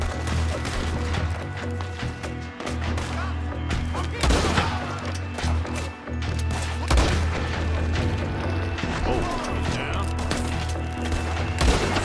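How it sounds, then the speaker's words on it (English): Sustained gunfight in the video game Red Dead Redemption 2: repeated close rifle and pistol shots with heavy booms, irregular and loud throughout, over a low droning score, with occasional voices mixed in. "They shot my hat off."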